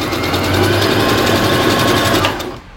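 Brother JA20 domestic sewing machine stitching at a long stitch length, a loud, steady mechanical whir with rapid needle chatter running continuously for a few seconds before stopping.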